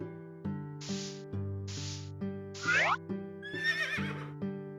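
Repeated whinnying from a horse in Harvest Moon: Hero of Leaf Valley, several bright neighs over a looping tonal game tune, the last ones longer and more warbled, no voices.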